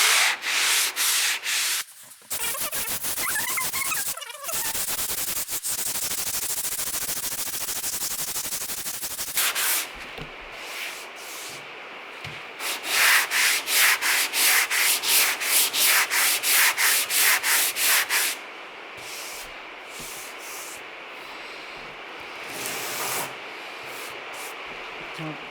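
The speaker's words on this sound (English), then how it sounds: "Last one on the bonnet, and then we are pretty much done sanding the bonnet." Steady abrasive sanding on the bonnet of a Talbot Sunbeam Lotus before priming, a continuous loud scraping that stops briefly, then resumes in rhythmic back-and-forth strokes.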